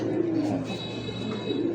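Pigeons of fancy breeds such as Lahore and satinette coo softly and steadily, a low rolling warble close by with a faint hiss of background noise.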